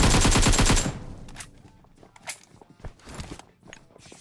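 A rapid burst of loud automatic gunfire in the video game PUBG Mobile for about a second, then quieter clicks, footsteps and mechanical rattles.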